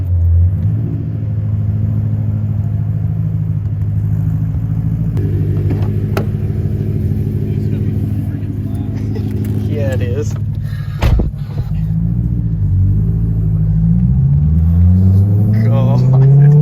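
A BMW E92 M3 with a loud straight-piped exhaust rumbles at a steady idle, then revs and drones with rising pitch near the end, while people talk briefly nearby.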